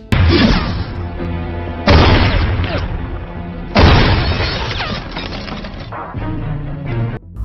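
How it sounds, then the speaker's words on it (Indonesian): Gunshots fired during shooting practice inside an empty building in a movie scene: three loud, booming blasts spaced about two seconds apart, each trailing off in a long echoing decay over a dense background. "Matius mendatangi sebuah gedung kosong untuk melatih skill menembaknya"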